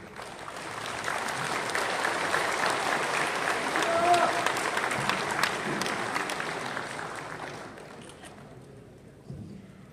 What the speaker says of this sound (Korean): 나오실 때 큰 박수로 환영해 주시면 고맙습니다.